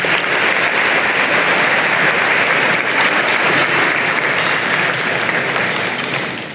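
A large convocation crowd at a college of engineering and computer science gives student leaders loud, sustained applause, a steady even wash of clapping that holds for the full length with no talk.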